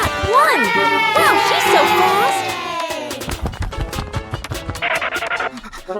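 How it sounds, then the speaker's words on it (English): Cartoon crowd cheering at a race, lively overlapping voices and shouts with scattered clattering, galloping-like hits and scratchy sounds, loud and continuous throughout. "The cheers from the crowd get louder, and the tension rises."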